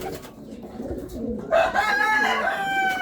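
A racing pigeon gives a low, throaty coo close by, rising and wavering over a second and a half after a quieter rustling start.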